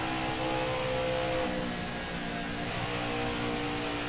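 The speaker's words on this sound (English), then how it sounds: "It does not take long for this race truck to really kick in." A race truck engine in NASCAR Heat 5 at Michigan, holding a loud, steady high-revving drone with a slight pitch shift midway.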